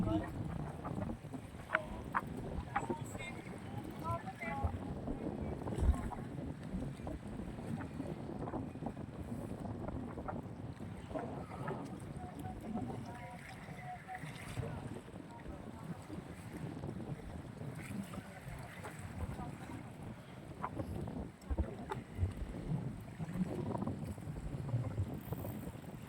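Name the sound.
strong wind from a typhoon at Manila Bay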